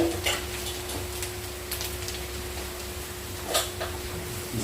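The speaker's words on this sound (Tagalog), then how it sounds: "Gisa-gisa lang." Garlic and ginger sauté in a hot pan, giving a soft steady sizzle with a low hum beneath it and a few brief utensil scrapes and clinks.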